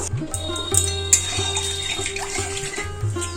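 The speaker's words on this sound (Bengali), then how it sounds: "এর মধ্যে আমি এবার জল দিয়ে দেবো" Water poured into a fried spice paste with oil for a Bengali pabda fish curry, a steady close pouring rush with low gurgling throughout.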